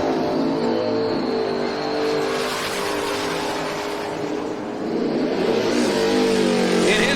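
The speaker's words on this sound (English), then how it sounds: "Alley in the supercharged Mustang. He came in as your leader" A supercharged Ford Mustang makes a drag racing pass, a loud sustained engine roar that holds steady, dips briefly, then surges again with a rising whine, close and dominant.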